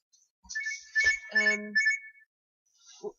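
A phone ringtone plays a few short electronic tones close by, quiet and brief, followed by silence and a faint tail.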